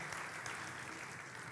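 A church congregation applauds, a dense, even patter of many hands clapping at a distance, quiet and continuous throughout without any voices.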